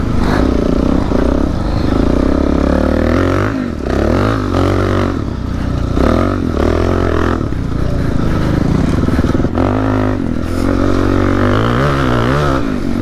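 A trail motorcycle weighing about 320 pounds rides over dirt trails, its engine droning loudly and steadily with rises and dips in revs, mixed with scraping and clattering from the rough ground.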